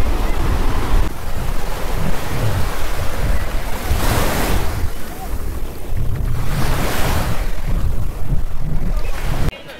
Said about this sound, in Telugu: కాబ్దేరామలో స్నానం చేయబోతున్నా బీచ్లో